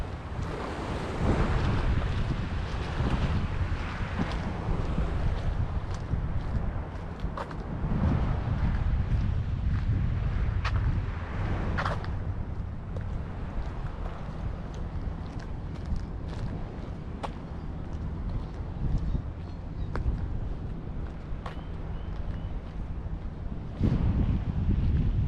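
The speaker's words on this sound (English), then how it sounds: "just so you can hear the waves." Ocean surf at a marina in Singapore rolls and washes continuously, mixed with heavy wind buffeting the microphone, loud and steady with no talking.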